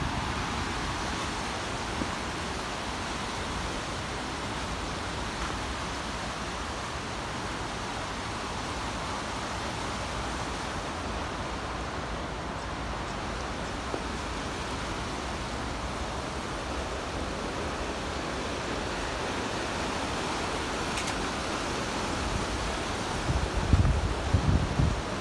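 The Tomebamba river in Cuenca flows along its banks with a steady, broad rushing wash that holds constant throughout, with no voices and only a slight bump of louder noise near the end.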